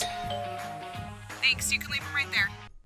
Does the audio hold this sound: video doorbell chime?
yes